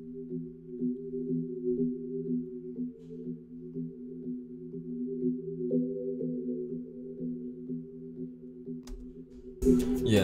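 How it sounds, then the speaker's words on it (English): Synth pluck preset from Nexus inside a hip-hop beat: soft, quiet, sustained tones with gentle repeating note onsets, low in level, with a sharper noisy hit near the end. "We got these plucks from Nexus again"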